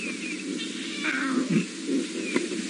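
A lioness of the Styx Pride on safari makes soft, low, deep grunts to her new cubs, with a few short growling calls over quiet outdoor background and no talking.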